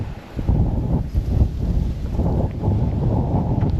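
Strong gusting wind buffets the microphone at a lakeside campsite, a steady low roar with surges and dips throughout, loud and close with no other sounds standing out.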